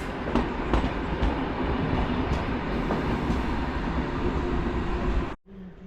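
A train rolls through Wrocław Główny station, a steady loud rumble of wagons with rhythmic clickety-clack of wheels over rail joints, cutting off abruptly near the end.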